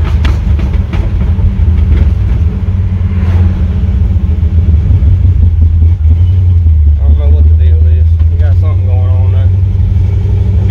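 A Chevrolet C10 truck engine runs loud and close with a heavy low rumble throughout, pushed toward full throttle while a person talks over it.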